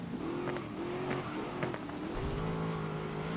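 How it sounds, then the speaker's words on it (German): A Porsche race car in the Grid racing game drones steadily, engine tone holding and stepping up through gear changes amid other cars, moderately loud and continuous. "Oh, ein Porsche fährt hier an."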